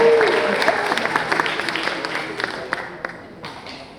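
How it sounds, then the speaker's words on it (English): Audience at a mayoral candidate forum applauding the moderator, dense clapping that starts loud and gradually thins into scattered individual claps, with a brief voice briefly audible at the start. "Please give her a round of applause."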